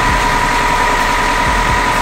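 A Suzuki Escudo engine runs at a steady, close idle with a constant low hum and faint ticking throughout.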